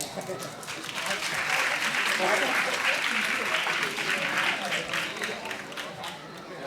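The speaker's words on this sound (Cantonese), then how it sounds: "大家拍手鼓掌" Audience applause at an awards presentation for a Hebocon robot contest in Hong Kong: dense, steady clapping from a crowd, swelling slightly in the middle and easing toward the end.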